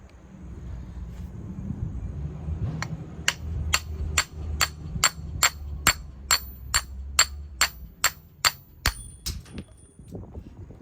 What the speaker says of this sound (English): let's just chop a big thing and see what happens here